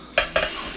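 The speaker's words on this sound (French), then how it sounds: "là moi je vais faire ma petite vaisselle" A few close clinks of dishes and cutlery being handled while washing up at a home sink, two sharp knocks followed by a soft ringing tail, with no talking.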